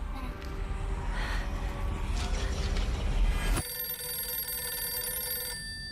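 A telephone rings with a bright, sustained electronic trill that cuts in suddenly partway through, following a stretch of busier, muffled noise.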